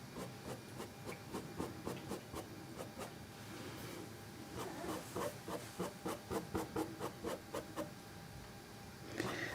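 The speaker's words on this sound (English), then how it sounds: "So this is dry brushing, so I'm just kind of going back over this" Dry brushing of acrylic paint over a textured canvas: a faint, steady series of scratchy, bristly strokes in an even rhythm that quicken in the second half, close and quiet, with no voice over it.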